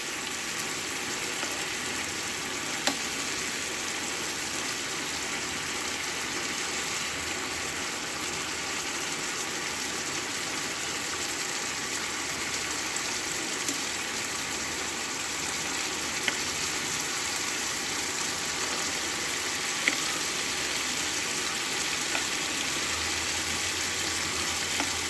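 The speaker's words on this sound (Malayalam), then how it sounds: "മീഡിയം ഫ്ലെയിമിൽ വെച്ചിട്ട് വേണം ചിക്കൻ ഒന്ന് വേവിച്ചെടുക്കാൻ." Chicken pieces for butter chicken cook in a pan over a medium flame, giving a steady, even sizzle and crackle that holds close and constant throughout with no talk.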